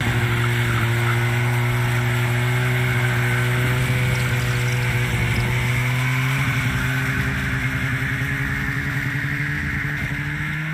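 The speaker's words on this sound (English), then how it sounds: "Yeah, that snowmobile was a beast." Snowmobile engine idling and running steadily on a frozen lake, a continuous droning motor hum with a slight rise in pitch partway through, close and alone with no talk.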